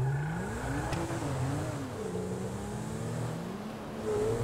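Steady engine drone of a car in Grand Theft Auto V, revving and shifting pitch up and down over a continuous low rumble with a faint background hum, no talk.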